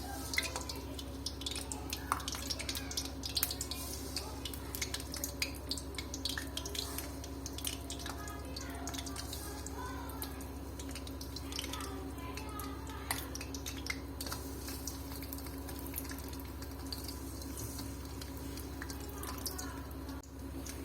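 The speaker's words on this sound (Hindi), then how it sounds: "ये मैंने चिकन डाल दिया और अब हम इसको करेंगे मीडियम लो फ्लेम पे फ्राई तकरीबन 15 मिनट के लिए।" Chicken pakora pieces deep frying in hot oil over a medium-low flame, a steady close sizzle with dense crackling and popping that carries on throughout.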